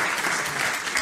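Brief burst of audience applause at a youth hackathon event, dense steady clapping from a crowd filling the whole second.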